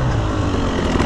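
A KTM TPI two-stroke motorcycle engine running steadily, a loud, close, dense buzzing drone that holds constant for about a second with no voices.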